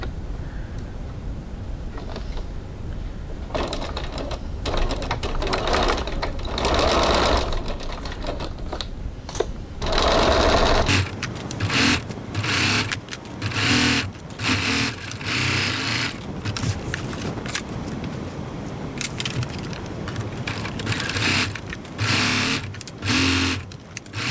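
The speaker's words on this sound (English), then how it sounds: "So now we're stitching this 1 centimetre 3/8 of an inch from the edge, making sure those edges are aligned." A sewing machine runs in bursts, stitching a seam 1 cm (3/8 inch) from the aligned fabric edges, its rapid mechanical whirring starting and stopping several times at close range with no talk.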